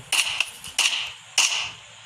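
Three sharp, popping bursts go off in quick succession in Minecraft, creeper-style explosions each with a short crackling decay, fairly close and with no talk over them.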